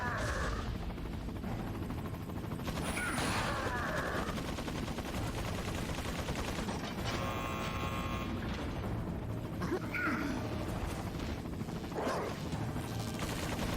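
Gunfire in Resident Evil 4, a mix of single shots and sustained machine-gun bursts over dense, continuous game noise with mechanical clatter.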